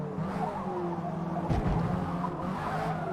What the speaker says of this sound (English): Ow, I spun the rears.